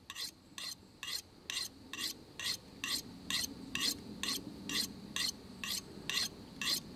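Convex-edged bushcraft knife drawn across a sharpening stone in steady, even strokes, each a bright rasping scrape with short pauses between, close and fairly loud over a low background rumble.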